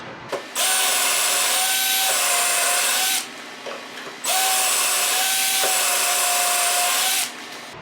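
A power drill bores dowel holes into wood through a DowelMax jig, two sustained loud whirring bursts of about three seconds each with a short pause between, no talking.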